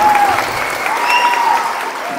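Loud, sustained applause from an audience for four women contestants at a Nagpanchami game-show event in Atpadi, with a few whistles cutting through the clapping.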